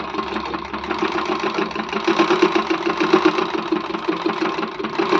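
Overlock sewing machine stitching fabric, a loud, fast, continuous mechanical whir with rapid rhythmic ticking that stays steady throughout.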